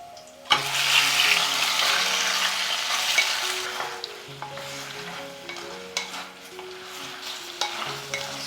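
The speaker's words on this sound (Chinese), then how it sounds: "再加入猪肠翻炒。" Pork intestines stir-fried in a wok with ginger slices and peppercorns, a burst of sizzling as they hit the hot oil, then spatula scrapes and stirring clatter over a softer ongoing fry, with background music underneath.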